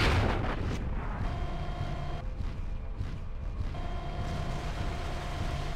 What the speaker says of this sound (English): Succumb to my mortar.